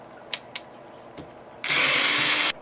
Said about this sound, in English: the first thing we want to do is unscrew all the screw in the spotlight